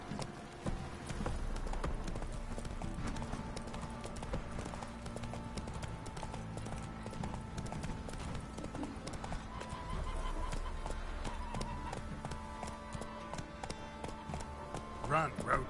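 Roach the horse galloping in a video game, rapid rhythmic hoofbeats clip-clopping steadily throughout over game ambience, with someone talking over it.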